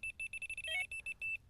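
A Delkim bite alarm beeping through its colour sequence: a rapid series of short, high electronic beeps with a brief warbling trill in the middle, close and clear with no talking.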